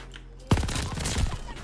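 Machine gun fire in the video game Call of Duty Vanguard, a sudden loud burst of rapid automatic shots starting after a short quiet moment and rattling on continuously to the end.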